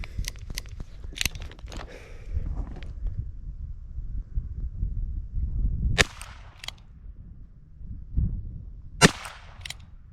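Ruger Wrangler Birdshead revolver fired at an outdoor range: sharp, loud shots spaced several seconds apart, with faint shuffling and handling sounds between them.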